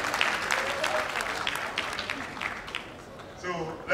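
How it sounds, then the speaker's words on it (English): Congregation clapping at a thanksgiving service in Accra, a dense wash of hand claps spread through the room, with voices mixed in and the applause thinning toward the end. "Clap for yourself because you know it already."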